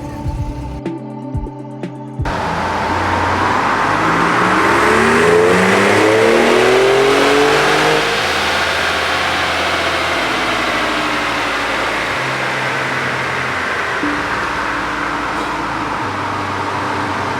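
A stock 2019 Ford Raptor Gen 2 roars through a dyno pull, its engine climbing steadily in pitch under full load and holding a loud, sustained howl after a short idle.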